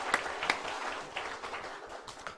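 A church congregation applauds during a Sunday service, a dense spread of handclaps at moderate level with a few sharper claps standing out, lasting a couple of seconds.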